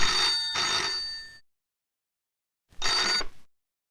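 In a 1989 Hindi horror film, a telephone bell rings loud and near, with two trilling bursts, a pause of about a second, then another short double ring, and no talk.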